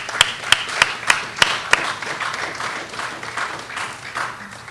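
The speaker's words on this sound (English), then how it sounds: "So can we give them another applause?" A youth business-idea event audience claps: a few sharp, loud individual claps open, then softer, diffuse crowd applause continues and fades.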